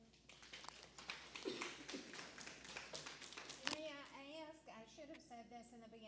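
Audience applause at a Texas District 100 candidate forum, a burst of many scattered hand claps in a hall, fading after a few seconds as a voice begins speaking over the room.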